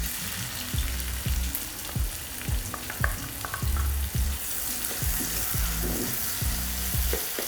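Onions frying in oil in a traditional uruli with cloves, cardamom and a bay leaf while being cooked for a Kuttanad-style duck curry. The close, steady sizzle comes with rhythmic scraping stirs of the spoon.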